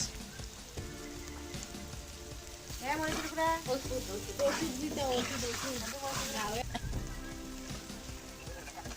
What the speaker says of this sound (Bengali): দেন হচ্ছে আমরা পেঁয়াজ দিয়ে এটা ভুনা করব